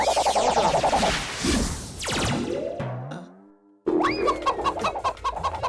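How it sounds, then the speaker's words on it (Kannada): A cartoon chicken in Motu Patlu, rapid rhythmic clucking and squawks mixed with comic boings and sliding whistle effects, loud and close, with a short silent gap before the clucking resumes. "ಈ ಕೋಳಿ ಜಾನು ಹೆಲ್ಪ್ ಮಾಡು ಅಂತ ಕೂಗ್ತಾ ಇದೆಯಲ್ಲೋ."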